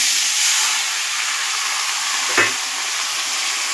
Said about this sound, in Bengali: এবার আমি ভাতগুলো এর মধ্যে দিয়ে দেবো